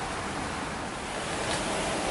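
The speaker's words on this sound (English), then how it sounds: "Our creek is really flowing." A backyard creek swollen by heavy rain rushes past in a loud, constant roar of churning water, with nothing else heard.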